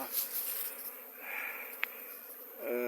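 Buckfast, Cordovan and Saskatraz honeybee colonies fly outside their hives in early March, making a steady, close buzz with single bees droning past, broken near the end by a louder near pass.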